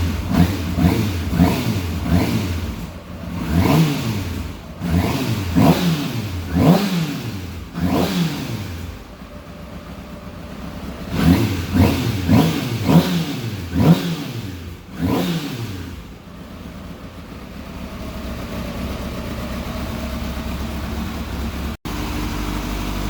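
Car engine warming up and being revved repeatedly, each rev climbing and falling in quick rhythmic bursts, then settling into a steady idle at close range with no talk.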